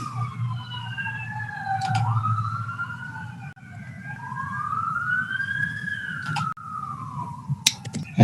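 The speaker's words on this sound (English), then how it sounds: "Had a police car going by and that was kind of loud" A police car siren wails up and down as it passes outside, moderately loud over a low background hum, with a few faint clicks from the room during a committee meeting.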